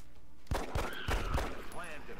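A pistol fires a follow-up shot in the Long War mod for XCOM: a loud, sharp burst of gunfire with a crash of impact sounds, near and punchy, spread over about two seconds after a quiet start.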